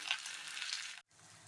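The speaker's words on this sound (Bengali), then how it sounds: "মশলা কষা হয়ে গেছে আলুও দিয়ে দিয়েছি" Spices frying in a pan for a fish curry with potatoes added, a soft steady sizzle that briefly cuts out and then resumes more quietly, with no talking.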